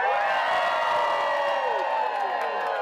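A large welcoming crowd cheers and whoops for veterans returning home from an honor flight in Northeast Indiana, a steady dense roar with scattered shouts and voices throughout.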